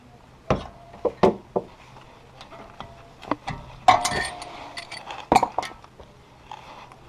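Stock brake rotor coming off the front hub of a BMW E90 335i, a string of sharp metallic clinks and knocks, irregular and close, with louder taps clustered near the middle and end.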